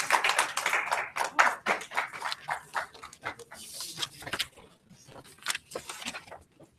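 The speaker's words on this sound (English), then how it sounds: "let's give him a round of applause" Audience applause for a visiting minister at an Ebola-fighting event in Sierra Leone: scattered, uneven hand claps from a modest crowd, fairly close, thinning out toward the end.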